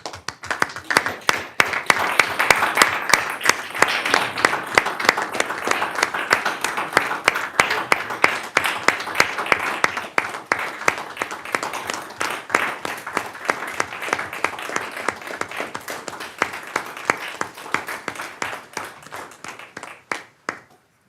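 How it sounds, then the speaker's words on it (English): A board meeting audience gives a long round of applause, many hands clapping in a dense crackling patter that holds strong for about twenty seconds before gradually thinning toward the end. "we will recognize with applause"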